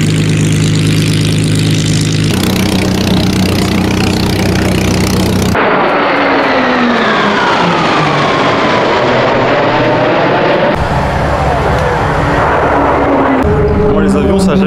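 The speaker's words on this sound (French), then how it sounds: "c'est quand même sympa de voir tous ces avions dans le ciel" Airplanes flying over the Temora air show in Australia, warbirds such as Spitfires and P-51s among them, with a loud, steady engine drone that rises and falls in pitch as aircraft pass, while people talk underneath.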